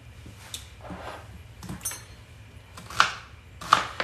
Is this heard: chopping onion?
yes